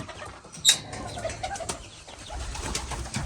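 Birds flutter and shuffle nearby as they are given feed, with a quick burst of flapping wings early on and soft rustling movement throughout.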